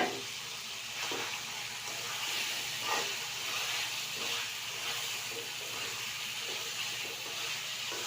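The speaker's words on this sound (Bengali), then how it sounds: "এবারে আমি কড়াইতে মাংসগুলো দিয়ে দেবো।" Fried meat sizzles in a hot wok, a loud continuous hiss with crackling surges that swell and fade, and no voices over it.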